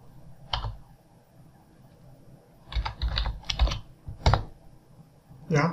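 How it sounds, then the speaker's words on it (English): Short bursts of computer keyboard typing and key presses, close and fairly quiet, in a quiet room between pauses during bridge modelling in ANSYS software. "Just press F2 from the keyboard and everything is very easy"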